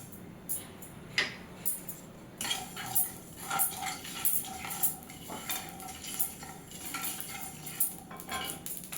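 Mustard seeds sputter in a hot pan on lowered heat while a spoon scrapes and clinks against the metal, giving irregular sharp crackles and taps close by with no talk.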